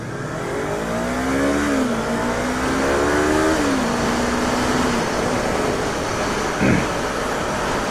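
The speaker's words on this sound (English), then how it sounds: "Yes, it's a CBR 600." A Honda CBR 600 motorcycle engine drones steadily at close range, its revs climbing and dropping through gear changes over a constant rush of wind.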